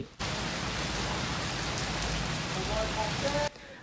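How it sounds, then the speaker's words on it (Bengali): Heavy rain pours steadily over Dhaka during Cyclone Remal, a dense continuous hiss of drops on surfaces that starts abruptly and cuts off near the end, with faint tonal sounds in the background. "ঘূর্ণিঝড় রেমালের প্রভাবে গত রাত থেকে বৃষ্টি ঝরছে রাজধানীতে। কখনো মুষলধারার, কখনো ঝিরঝিরে বৃষ্টি ঝরছে।"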